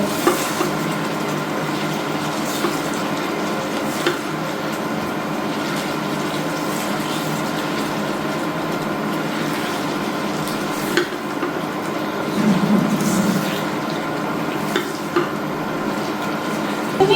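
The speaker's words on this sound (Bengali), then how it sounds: "তো এবার আমি এখন সমস্ত কিছু ভালোভাবে মিক্স করব।" Chicken curry fries and gets stirred in a pan: a steady, close sizzle with scraping spoon strokes throughout, and a slightly louder bubbling swell near the end.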